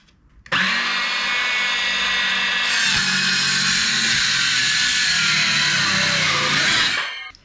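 A Ryobi power saw makes a one-inch-deep cut through material. Its loud, close, steady whine starts abruptly, runs for about six seconds at an even pitch and then winds down.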